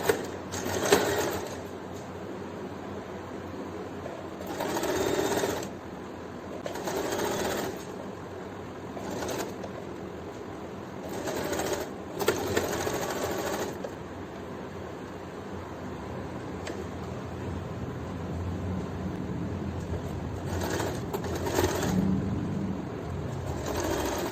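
A sewing machine stitching a fabric face mask, its motor whirring in long steady runs broken by short pauses, close and even, with no talking over it.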